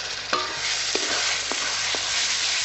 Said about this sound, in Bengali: আমরা এই মশলাটা অল্প অল্প করে জল দিয়ে কষিয়ে নেবো।